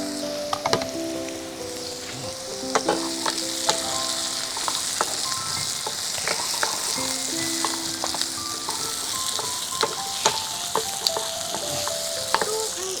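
Cucumber pieces with seeds removed sizzle and fry steadily in a hot pan for a Bengali doi posto dish, with a continuous crackling hiss and occasional sharper pops and faint utensil clinks, no talking.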